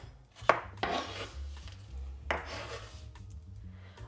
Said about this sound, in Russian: Ароматный перец нарезаю такими очень тонкими полукольцами.